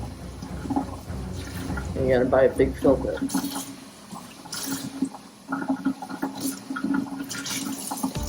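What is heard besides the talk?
water rinsing turtle tank substrate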